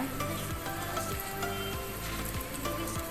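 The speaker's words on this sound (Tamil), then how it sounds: "இப்போ நல்லா ஃப்ரை ஆகிட்டு இருக்குங்க" Raw plantain slices fry steadily in hot oil in a pan, a dense continuous sizzle with faint crackling, close and loud, no voices.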